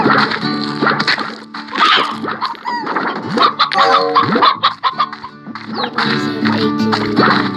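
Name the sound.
roosters clucking in Slime Rancher video game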